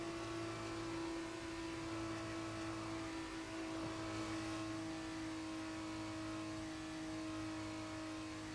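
Race car engine in a racing video game sprint race at Emilia Romagna, a steady loud drone holding at high revs as the car crosses the finish line, continuous and alone without talk.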